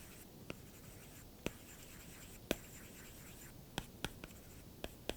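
Genuine Apple Pencil 2 tip writing on an iPad fitted with a paper-texture film, very faint scratchy strokes with a few sharp taps scattered irregularly over a quiet hiss.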